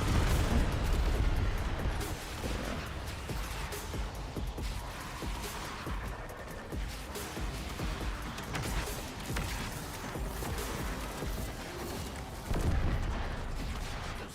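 Torpedo launch explosions rumble in the Warframe video game, with heavy booms and dense blasts rolling continuously, loud and close, swelling again near the end.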